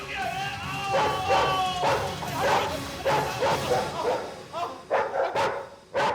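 A dog barks repeatedly at close range in a tense indoor scene from a crime drama, sharp barks and yelps coming in quick bursts amid background noise.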